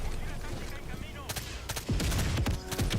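A low-recoil weapon fired in Helldivers, with a rapid string of loud, close shots that grows denser toward the end over steady game ambience and background music.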